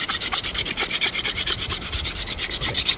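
A wooden hand drill spun between the palms for friction fire makes rapid, rhythmic rubbing rasps, each stroke close and steady across a few seconds, with no voices.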